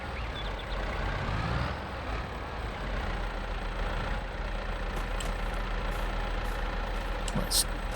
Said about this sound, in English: this tractor, in all fairness, is pulling these without an issue